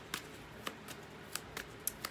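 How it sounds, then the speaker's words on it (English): A tarot card deck being shuffled by hand, quiet and close, with about seven sharp, spaced card snaps and riffles over a soft hiss. "Now I'm going to shuffle the tarot deck and pick 3 cards"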